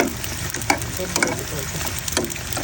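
Small local potatoes fry in hot oil in a pan of pigeon curry, giving a steady close sizzle broken by a few scraping stirs and light clinks.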